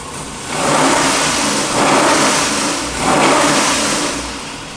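A 700 hp 441-cubic-inch LS V8 with 13.25:1 compression runs on an engine dyno while warming up, its loud, close engine note rising in three repeated revving swells over a steady rumble, with no talking.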